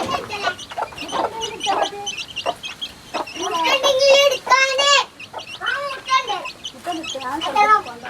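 Chickens cluck and squawk at a backyard coop, close and fairly loud, in busy irregular bursts, with a person talking now and then amid the birds.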